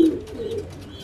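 French meat pigeons give a close, low cooing call over soft rustling in a loft.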